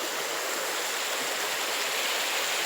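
River water rushes steadily in Jamaica, a dense, even wash of flowing stream noise heard close and alone.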